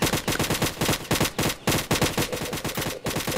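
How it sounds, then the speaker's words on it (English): Rapid automatic gunfire in a Roblox game aimed at a shark, loud, evenly spaced bursts of shots in quick succession with brief pauses, no voices. "Time to shoot the shark."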